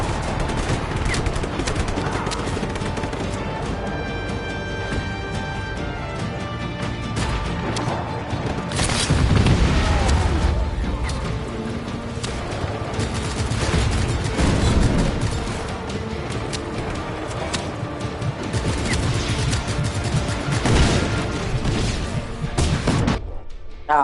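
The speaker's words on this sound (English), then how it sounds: "I got hit with the explosion and died accidentally" Explosions and gunfire rip through an enemy base in Just Cause 3, with dense rapid-fire shooting and heavy booming blasts, loudest around the middle, continuing throughout.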